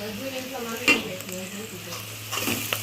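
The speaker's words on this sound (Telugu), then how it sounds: "పసుపు వేసుకుని బాగా కలిపుకుందాం" Turmeric being stirred into ginger garlic paste frying in a pan, a soft steady sizzle with a few light spoon scrapes and clinks, close up and fairly quiet, with faint tonal hum beneath.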